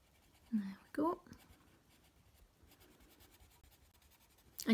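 Colored pencil pressed hard while shading water droplets in a Johanna Basford Magical Jungle coloring book, faint soft scratching strokes on paper broken by a few louder brief sounds.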